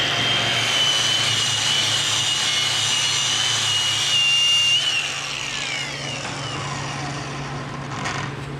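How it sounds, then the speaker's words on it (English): A wire wheel grinder scours a SMAW weld in a 2G V-groove plate, giving a loud, steady whirring hiss with a high whine that drops to a slightly quieter level partway through. "We're gonna go ahead and wire wheel this real quick."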